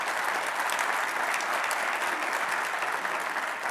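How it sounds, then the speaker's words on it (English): An audience at a panel event on racial reckoning and Emmett Till's open casket gives a warm round of applause, dense, even clapping that stays steady for several seconds with no speech over it. "Let's give her a virtual round of applause."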